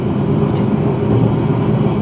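Heard from aboard, the Senja Utama Jogja passenger train from Jakarta to Jogja runs at about 100 km/h past Bekasi, a loud, steady low rumble and roar of wheels and carriages without break.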